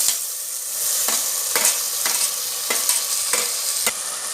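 Tomatoes sizzle in a hot pan for chana masala while a utensil stirs them, scraping strokes repeating roughly every half second over a constant close frying hiss.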